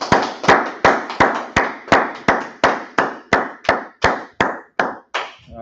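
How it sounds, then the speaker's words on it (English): Audience clapping in slow, steady unison at a class, about fifteen sharp, loud, evenly spaced claps roughly every 0.4 seconds, each ringing out with a reverberant tail, with no talk over them. "Clap it up."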